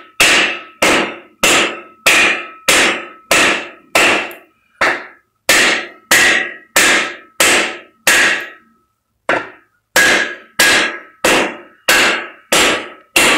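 A hammer pounds out cylinder liners from a WD615 engine in an International 9800 truck, with about eighteen loud, close metallic blows in a steady rhythm over thirteen seconds and one short pause near the middle.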